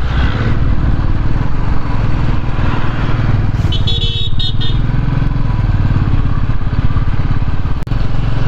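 Motorcycle ridden on a flat plains road after a hill ride near Sevoke, West Sikkim, its engine droning loud and steady throughout with wind rush.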